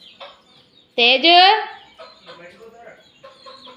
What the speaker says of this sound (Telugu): కోళ్ళు వచ్చేసాయి